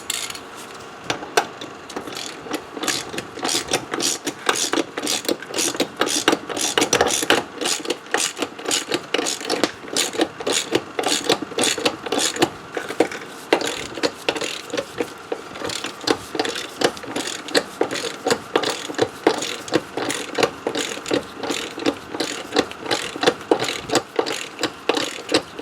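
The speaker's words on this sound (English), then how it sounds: "now we're going to sock on this bolt and see if we can't push this tire" A ratchet clicks rapidly and steadily as a socket turns a bolt that presses a car tire bead off its wheel rim during a TPMS sensor replacement. The dense, even ratcheting runs without pause, fairly close and moderately loud.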